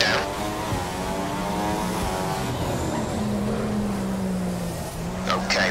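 An F1 car engine in the F1 2015 game at Monaco howls at steady high revs, a dense harmonic whine with brief pitch shifts near the end, loud and continuous throughout.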